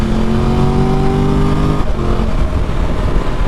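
A Triumph Tiger motorcycle's inline-three engine pulls hard and loud up close, its whine climbing steadily before a gear change near the midpoint, then carrying on with a rough, powerful drone.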